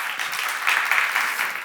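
Church congregation applauding at a seminar sermon, a short burst of dense, moderately loud clapping from a crowd, with no speech over it.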